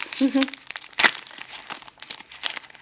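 Crinkly tearing and crumpling sounds of tape peeled off a padded envelope come in short bursts close by, with a brief voice sound near the start.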